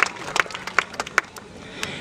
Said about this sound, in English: I think Gina deserves a massive round of applause for that brilliant impression